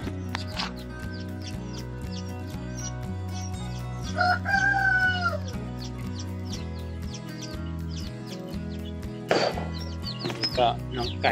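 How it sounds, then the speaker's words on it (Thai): A rooster crows once, loud and near, with a rising then falling call, amid scattered clucks and chopping knocks over a repeating low musical loop. "ก็น้องไก่นะครับ"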